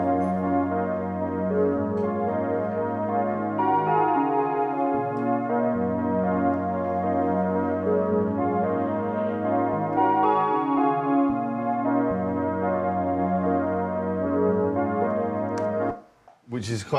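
A pretty, repeating synth figure played on a Roland Juno synthesizer, bright layered chords stepping through a gentle pattern at steady volume, alone, ending with a brief noisy cutoff.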